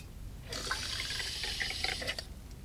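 Nitro matcha poured into a glass already holding coconut water, a steady hissing liquid stream lasting about one and a half seconds and then tapering off, close and fairly quiet, with no talking.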